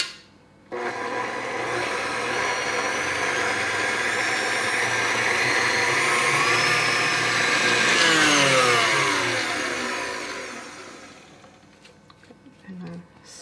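A stand mixer kneads sweet milk bread dough for German Milchbrötchen, giving a steady, loud motor whir with a slight change in pitch that runs for about ten seconds before winding down.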